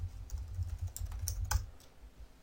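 Computer keyboard typing while a parameter name is entered in UDK material editor software, a short burst of light key clicks over a steady low hum, fairly close and without speech.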